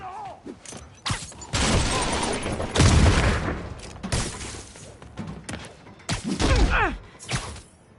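Explosions in the Spider-Man PS4 game: several loud, booming blasts with crashing, shattering debris, spread irregularly across the stretch and separated by quieter gaps, with brief voices mixed in.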